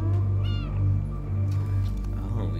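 A cat meows in the video game Stray, a few clear, close meow calls over a steady droning game soundtrack with a faint voice in the background.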